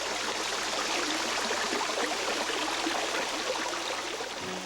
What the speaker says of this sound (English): It begins as a sprightly stream cascading through Blackberry Ridge.